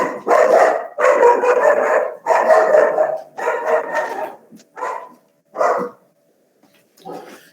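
A dog barks repeatedly and loudly nearby, a run of rapid bow-wow barks followed by a few shorter, spaced yips, heard alone without talk over it.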